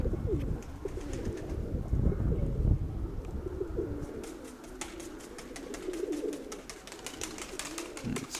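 Soft, repeated cooing of several pigeons close by, overlapping in a low rolling rhythm, with some light rustling and flutters.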